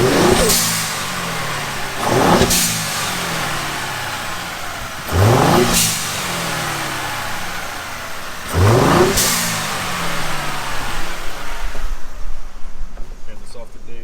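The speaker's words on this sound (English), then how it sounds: "this is the stock intake, couple revs" A Ford F-150 with the 3.5L EcoBoost V6 on its stock intake revs four times in sharp bursts, each climbing fast and falling away, with the engine idling close by between blips.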